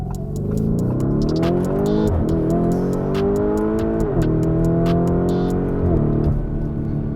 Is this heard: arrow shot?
no